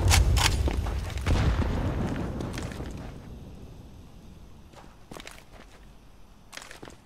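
A grenade in a CS:GO match goes off with a heavy close boom at the start, its rumble decaying over several seconds, followed by scattered footsteps and faint clicks.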